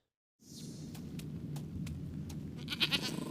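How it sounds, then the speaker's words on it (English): A goat bleats in a dramatic fantasy scene, a few short cries rising over a low, steady rumble of background noise. "Oh no! Goodbye, goat."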